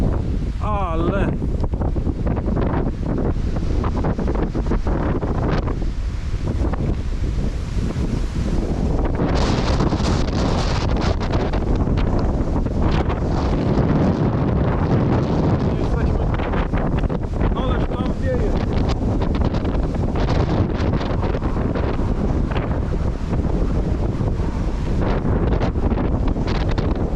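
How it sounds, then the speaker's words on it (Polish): Very strong wind from a supercell downburst in Poland roars continuously against the microphone for nearly half a minute, loud and buffeting with gusty surges. "bardzo silny wiatr"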